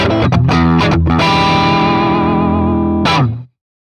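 An electric guitar played through a Kemper Profiler with a rockabilly tone, studio EQ adding 4x10-cabinet bass and a short analog-style slapback delay: a few quick picked notes, then a loud sustained chord ringing about two seconds before being cut off.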